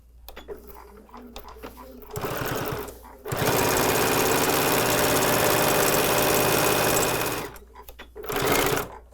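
Sewing machine stitching the long seams of a small fabric charm gift bag, a steady close mechanical whirr running several seconds between short starts and stops.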